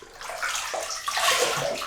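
Water from a tap runs and splashes in a bathroom sink during a cold-water face rinse before shaving, a close, steady gush with some sloshing and shifting spatter over about two seconds.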